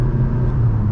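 A 2025 Jeep Compass diesel automatic SUV accelerating at full throttle on an Indian highway, a steady loud low engine drone with road rumble and no break.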